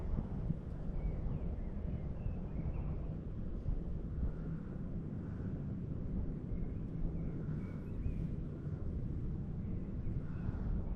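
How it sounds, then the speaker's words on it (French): Strong wind outdoors while fishing, a steady rushing buffet of wind noise across the microphone, constant and fairly close with no one talking. "il y a trop de vent, c'est pénible"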